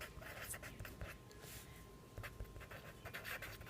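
A pen or marker scratches steadily as colour names are written out during a Class 6 maths lesson on sets. The strokes are close and continuous, with short pauses between words.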